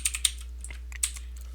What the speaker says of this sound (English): I'm going to type apples here